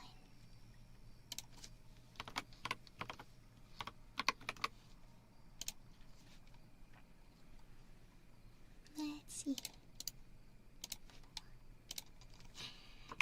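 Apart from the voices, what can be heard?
typing on a computer keyboard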